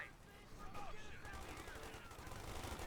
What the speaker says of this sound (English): And there you go, good hit with the machine gun there.